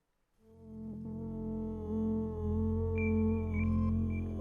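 A sine-wave synthesizer loop runs through the GFI System Duophony effect: a sustained, smooth tone with stacked harmonics that swells in after a quiet start, with faint higher blips joining later.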